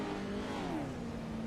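Off-road race vehicle engine in iRacing crossing the finish line at Wild West Motorsports Park, a brief close engine whine that drops in pitch as it passes, with no voices.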